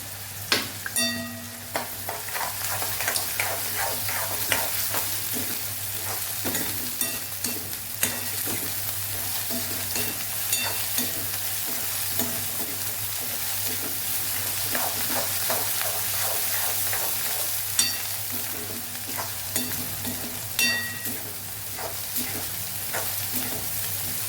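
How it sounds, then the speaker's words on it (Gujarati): Ginger, garlic and chili paste sautéing with onions and peas in a pan, a steady close sizzle and frying crackle with repeated clinks and scrapes of stirring throughout. "તો અહીંયા આદુ, લસણ, મરચાંની પેસ્ટને પણ સાતળી લેશું."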